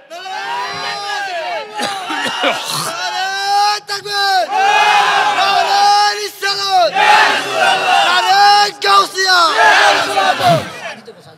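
A large crowd at an outdoor Islamic sermon gathering in Tajpur, Ashuganj loudly shouts the takbir chant in repeated rising waves, many voices together, with short breaks between the bursts.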